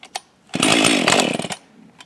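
Husqvarna 42 chainsaw being started and run, with a couple of short pull-start bursts and then a loud, close roar of about a second that falls off and ends with a brief final blip.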